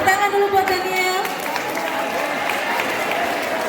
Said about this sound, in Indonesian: Tepuk tangan dulu buat Daniel.